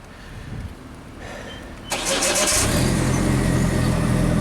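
A JLG lift's engine, which had a no-start fault, cranks briefly and then catches, settling into a loud, steady running rumble close by.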